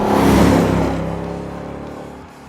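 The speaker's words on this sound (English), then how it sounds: "This latest Coyote V8 really wants to rev" The Coyote V8 engine of a 2015 Ford Mustang GT revs with a loud, close roar that peaks early, then drops away into a steadily falling engine note.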